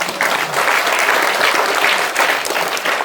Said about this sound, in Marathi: त्याने त्या विजयाचा विशेष कौतुक सगळ्यांनी टाळ्या वाजवून